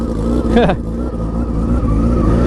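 A Yamaha R6 track bike with a competition slip-on exhaust gives a short, loud rev that climbs and falls back, then settles into a rough idle, close by. A voice speaks briefly over the engine.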